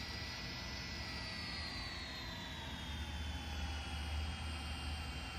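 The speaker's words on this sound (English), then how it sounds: "The 777 and the 747 taxiing together." Boeing 777 and 747 jets taxiing together in Real Flight Simulator, a steady whining turbine hum with a slowly falling high tone over a continuous low rumble, no talk.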